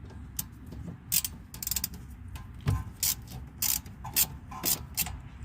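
A wrench works loose the 10mm bleeder fitting on the brake caliper of a 2011 Lincoln MKZ Hybrid, giving a series of sharp ratcheting clicks in short bursts, close and fairly loud over a low background rumble.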